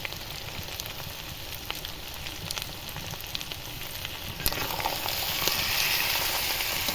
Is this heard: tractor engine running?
no